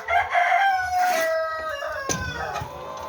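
A rooster crows nearby in a chicken farm in South Korea, a long drawn-out call that trails off, followed by a brief second cry.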